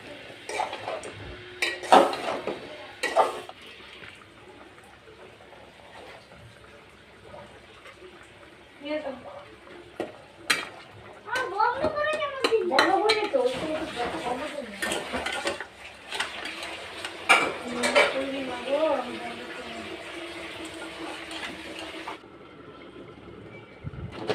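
Eggplant, ridge gourd and potato pieces stir-fried in a pot for a fish curry, with repeated scraping and clanking of a metal spoon against the pot in irregular bursts, and a voice speaking intermittently between strokes.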